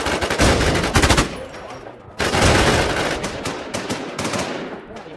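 Rapid automatic gunfire in a shooting video game, loud dense bursts that stop abruptly, leave a short quiet gap, then resume and trail off toward the end.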